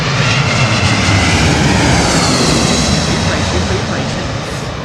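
An aircraft taxiing out for runway 27 left at London Heathrow Airport gives a loud, close, roaring engine drone with a whining edge that fades slightly toward the end.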